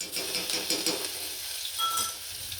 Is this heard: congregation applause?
no